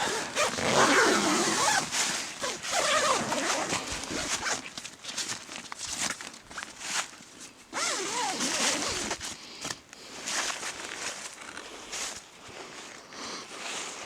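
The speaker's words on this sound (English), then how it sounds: "let me zip it up" A tent door zipper on a cheap Coleman tent is pulled closed in several rasping strokes with short pauses between them, close and fairly loud, with fabric rustling.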